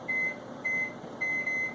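Kitchen timer beeping during backpacking meal prep, three evenly spaced electronic beep bursts, each roughly a quarter second long, clear and moderately loud over a quiet room hum.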